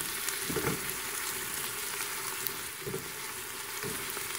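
Onions and celery sizzle in a soup pot for a chicken kale soup, a steady hiss of frying broken by a few soft clunks of stirring. A single quiet word is spoken.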